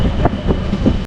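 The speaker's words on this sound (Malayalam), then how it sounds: "അങ്ങനെ നമ്മുടെ വണ്ടി എടുത്തു" The 16341 Intercity Express rolls along the rails just after leaving Alappuzha station in Kerala, a loud, close rumble with regular clacking wheel beats heard from inside the train.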